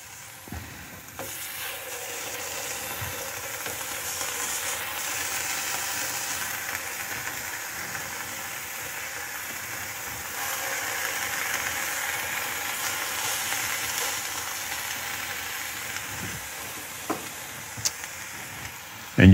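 Halloumi cheese frying in olive oil in a pan gives a steady, dense sizzle and hiss that holds for the whole stretch, with a few faint clicks and pops scattered through it.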